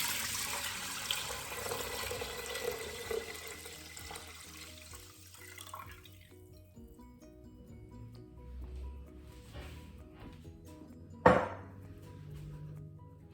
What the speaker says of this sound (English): Now pour 8 cups of cold water into the Instant Pot.